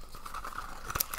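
Packaging for a Minecraft mini figure being opened, with a few quick crinkles and a sharp tearing snip near the end, close and fairly quiet.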